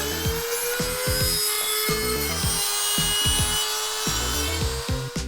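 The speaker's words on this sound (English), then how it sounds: "then saw off the excess with a drill." The excess end of a bent steel bicycle spoke is cut with a drill, a continuous rough grinding rasp with rapid repeating strokes, close and steady without voices.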